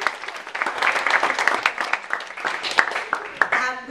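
An audience at a 2013 business plan competition applauds the judging panel, a moderate, fairly loud patter of many clapping hands lasting a few seconds, with a voice speaking briefly near the end.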